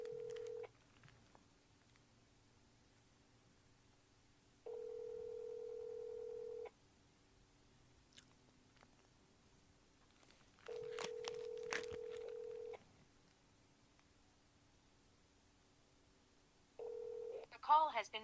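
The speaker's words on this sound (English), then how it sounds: "I'm calling Noah. I'm gonna put it on speaker this time" A phone call rings out over a speakerphone in repeated long tones separated by pauses, fairly quiet and clean, with a faint voice briefly heard near the end.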